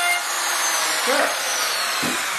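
A power tool drills and mills through a template with a continuous high whine, and a short change in pitch comes midway. A louder thud-like burst follows near the end.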